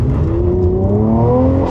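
Mercedes C43 turbo engine accelerating from inside the car, a loud steady rising drone with climbing harmonic tones over roughly two seconds, with no talk.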